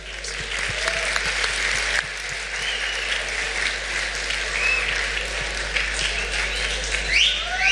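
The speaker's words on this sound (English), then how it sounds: "Let's receive them with an applause." Steady audience applause for a school choir at an English song festival competition, a dense wash of many hands clapping continuously for several seconds, fairly loud and even with no talk over it.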